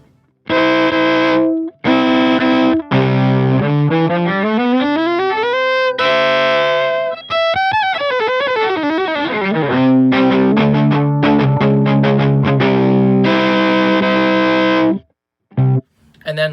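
Electric violin played through a Line 6 Helix amp block with no reverb, giving a dry, distorted tone; loud sustained notes and sliding runs rise and fall in pitch, with brief gaps between phrases.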